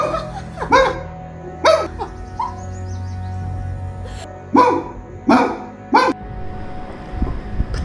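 A person imitating a dog in a drama scene, barking in about seven loud, short, separate bursts with pauses between them, over a faint background hum.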